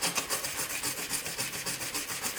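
Brush strokes rubbing across clear-coated painted tile, a steady run of rapid rasping back-and-forth passes, close and fairly loud with no pauses and no talking.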